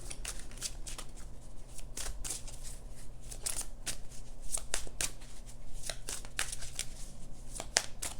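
Tarot cards being shuffled by hand in a quiet room, with a steady run of crisp riffling and flicking bursts repeating close up and fairly loud throughout, alone without talk.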